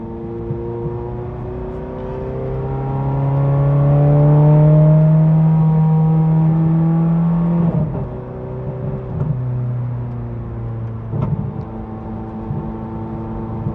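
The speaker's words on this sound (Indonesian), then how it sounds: "Wah, ledakan knalpotnya kedengeran banget." A Ferrari 430 engine revs up and swells loudly, then settles back, with a few sharp exhaust pops crackling as it drops off.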